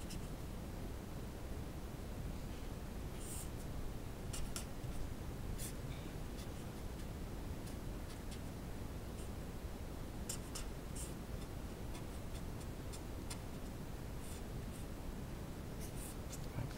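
Pen or pencil scratching out equations by hand on paper, a soft continuous scribble with light ticks and taps as strokes begin and end, close and quiet, with no speech.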